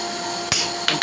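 A hammer drives a ball end punch into forged metal in three sharp strikes: one loud ringing blow, then two quicker, lighter taps close together, over a faint steady shop hum.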